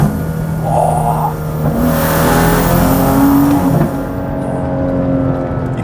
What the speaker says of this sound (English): You can hear the air getting sucked into the car and surging to the engine